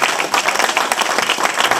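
A church congregation claps and cheers loudly and continuously throughout, a dense close burst of applause at a worship service.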